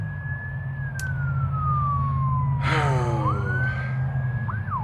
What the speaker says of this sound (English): If you don't hear the sirens, you'll be hearing it soon.